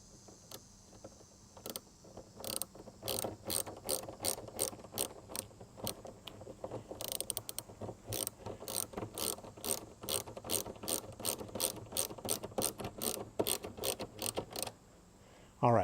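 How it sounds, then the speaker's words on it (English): A hand ratchet tightens bolts on an aluminum hood latch while it is installed on a 2020 Jeep Wrangler, giving a steady run of sharp, close clicking bursts in a quick repeated rhythm that stops near the end, with no talk. "let's drop that in there, and then let's tighten this up."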